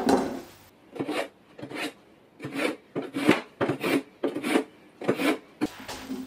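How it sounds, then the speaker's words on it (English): A kitchen knife drawn repeatedly across a sharpener, about nine or ten rasping strokes in a steady back-and-forth rhythm, close and clear with no talking. "Let's sharpen this knife a bit."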